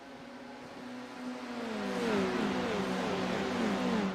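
Formula 4 race cars roar down the pit straight at Sandown International Motor Raceway, engine pitch climbing and swelling louder as they approach, with rising revving tones and no speech.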